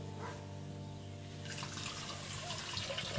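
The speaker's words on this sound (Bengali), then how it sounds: "বন্ধুরা আরো হাফ লিটার আমি ঢেলে দিচ্ছি দেখুন বন্ধুরা।" Full cream milk pours from a packet into a cooking pot, making a steady, continuous liquid splash and gurgle that builds louder partway through, with a low hum underneath and no talking.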